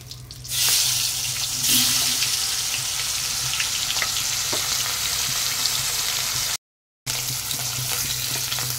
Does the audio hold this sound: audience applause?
no